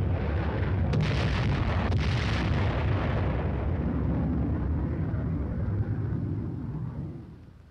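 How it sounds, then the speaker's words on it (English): General purpose bombs dropped from aircraft exploding, a sustained heavy rumbling roar with a few sharper bursts early on, loud and fading out at the end. "the first flight drops general purpose bombs"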